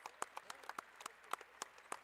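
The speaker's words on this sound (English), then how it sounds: "Gets a nice round of applause." Clapping from a crowd at a girls high school basketball championship game, Serra Catholic versus Geibel, as an injured player is helped off the court; a steady scatter of moderately quiet claps over about two seconds.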